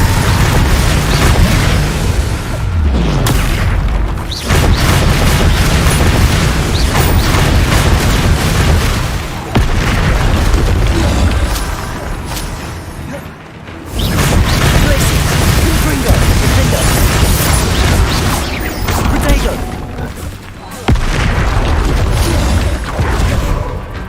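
Confringo explosion spells cast in the video game Hogwarts Legacy, a long stretch of loud, booming blasts and crackling bursts in heavy waves with brief lulls, under a voice shouting spell names.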